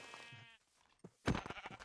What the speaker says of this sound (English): Hey, there's a PINK sheep.